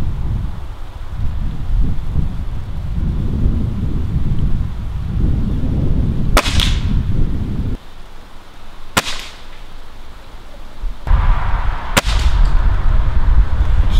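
Three sharp, loud cracks from a Black Ops sniper air rifle, fired outdoors at intervals of a few seconds over steady wind rumble buffeting the microphone.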